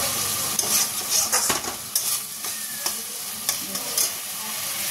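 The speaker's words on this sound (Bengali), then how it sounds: "এতে নুন আর হলুদ দিয়ে ভালো করে মশলাটা কষিয়ে নিলেই ব্যাস, রান্না শেষ।" Spice paste with salt and turmeric sautés in oil, a steady bright sizzle punctuated by repeated clinks and scrapes of a utensil against the pan, close and without talk.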